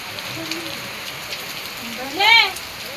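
Heavy rain hisses steadily at a river crossing by a hanging bridge, a constant wash of sound under a voice speaking, with a short whistling tone rising briefly near the end.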